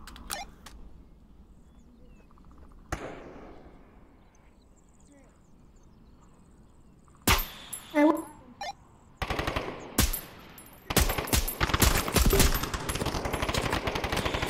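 Gunfire in the VR shooter game Onward, isolated shots followed by rapid automatic bursts growing louder and denser, with players talking over the action.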